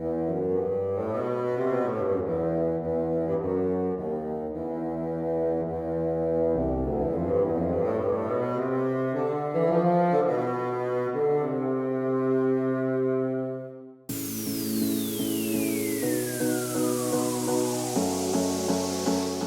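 A low, reedy bassoon plays a slow flowing melody up close; toward the end a hissing, sweeping noise joins the sustained notes.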